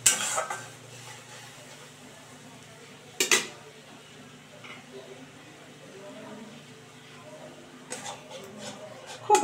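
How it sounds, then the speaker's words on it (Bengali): Cashew and poppy seed paste being stirred in a pan, with a few sharp utensil scrapes and clinks against the pan at the start and near the end, and quieter stirring in between. "কাজু আর পোস্তটাকে দিয়ে খুব ভালো করে মিশিয়ে নিচ্ছি।"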